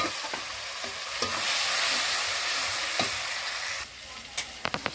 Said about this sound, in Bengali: টমেটো আর পেঁয়াজ কাঁচা লঙ্কা দিয়ে ভালো করে দেবো, কষিয়ে নেবো।